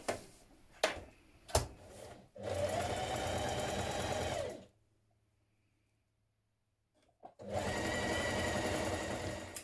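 Domestic sewing machine stitching fabric for a dressmaking top: a few sharp ticks, then a steady close mechanical whirr of about two seconds, a pause of near silence, and the fast stitching rhythm starts again.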